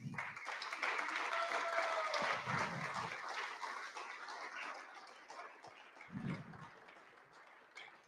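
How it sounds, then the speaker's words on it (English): Guests at a speakeasy-themed fundraiser evening applaud a woman, a fairly faint, softening patter of clapping with brief murmurs of voices underneath. "give her a round of applause"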